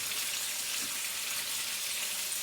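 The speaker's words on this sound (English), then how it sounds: "when you're frying, after you put up the heat on the cooker" Chicken fillet frying in a pan on the cooker, giving a steady, dense sizzle that holds at an even level throughout with no voices.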